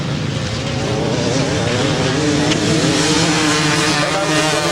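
Grasstrack racing motorcycles at a 1999 meeting, their engines roaring and accelerating together in a dense, loud, continuous drone.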